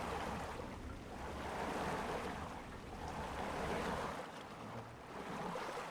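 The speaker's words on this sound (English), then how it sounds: "The water sound is really nice. As look like you are in a beach." Beach-like water waves ambience in the video game Timberborn, a steady washing surf that swells and recedes in soft, continuous surges, fairly quiet with no talking.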